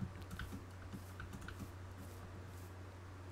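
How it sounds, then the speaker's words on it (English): Computer keyboard keys clatter in quick irregular bursts alongside occasional mouse clicks, faint and close to a desk-mounted microphone over a low steady hum. "if you can hear my keyboard and mouse clicking"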